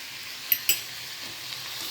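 Tomatoes, spices and rock salt sauté in a pan with a soft, close sizzle, broken by a couple of brief clinks from stirring.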